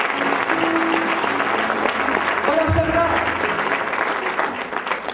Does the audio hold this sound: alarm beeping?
no